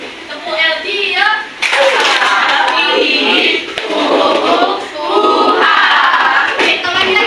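A group claps hands together in patterned bursts amid lively voices and chanting, loud and close with brief pauses between rounds.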